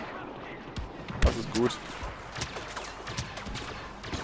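Scattered gunfire crackles in Star Wars Battlefront, a few sharp shots and short bursts popping irregularly, fairly faint and distant. Someone speaks briefly over the game sounds.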